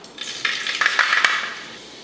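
Fenugreek seeds hit hot oil in a pot and crackle and sizzle loudly, with sharp pops and a bright frying hiss that fades toward the end, with no voices.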